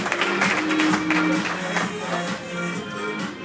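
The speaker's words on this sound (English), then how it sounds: "let's give a big round of applause to Gus." A comedy show audience in Las Vegas claps steadily in a dense, continuous wash of applause, with some chatter and cheering mixed in, fairly loud throughout.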